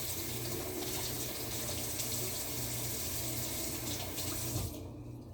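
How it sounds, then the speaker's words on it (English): A kitchen tap runs steadily, pouring dishwater into a sink with a constant broadband hiss and splash that cuts off abruptly near the end. "You know I got dishwater going over here."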